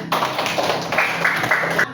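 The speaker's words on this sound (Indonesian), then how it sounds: "Tepuk tangan dulu" A classroom of students clapping hands together, a short burst of close, lively applause lasting under two seconds with a faint voice underneath.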